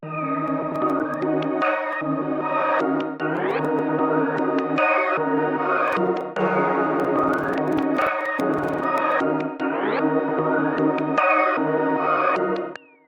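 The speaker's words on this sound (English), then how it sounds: "I layered that last lab sound with this Serum 2 pad," Labs piano layered with the Serum 2 pad called Opening Scene, a dense sustained synth wash with glitchy effects, sweeping tones and steady chords, loud and continuous with no talk.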